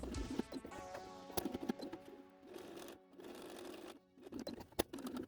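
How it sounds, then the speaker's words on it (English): A sewing machine topstitches a cosplay cape in faint, rapid stitching runs that stop and restart several times. "After ironing, a nice top stitching to seal the deal."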